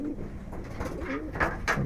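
Giribaz pigeons coo in soft, rolling murmurs, with a few brighter accents near the end, close by over a busy loft background.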